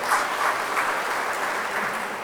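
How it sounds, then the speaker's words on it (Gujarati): An audience at a business community meeting applauds steadily to welcome two guests, a dense even wash of clapping that holds at moderate loudness throughout without any voices. "બે મહેમાનોને જોરદાર તાળીથી આપણે વધારી"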